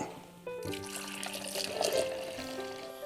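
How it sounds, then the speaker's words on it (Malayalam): Strained orange chilli juice pours into a jar in a home kitchen, a close, gentle liquid trickle and splash that swells midway and then eases off. "ഇനി ഞാൻ ഈ അരിച്ചത് ഈ ജാറിലേക്ക് തന്നെ ഒഴിക്കുകയാണ് കേട്ടോ."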